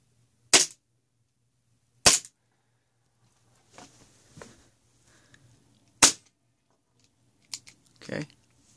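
A KWA TT33 airsoft pistol fires four sharp, snappy pops spaced a few seconds apart, with quieter clicks and handling noises in between.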